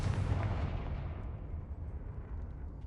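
A Confringo fire spell blast in the video game Hogwarts Legacy goes off as one loud, booming burst that rumbles and slowly fades over about three seconds, with no voices.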